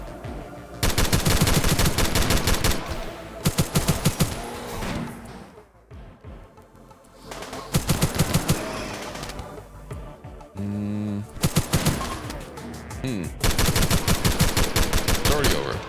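Rapid bursts of automatic gunfire from guns in a video game, loud and close, arriving in several dense volleys separated by short lulls.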